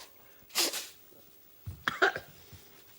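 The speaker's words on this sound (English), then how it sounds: "Right, blow my nose." Two short bursts of nose blowing, one brief honk then a longer sputtering blow a second later, close and fairly quiet.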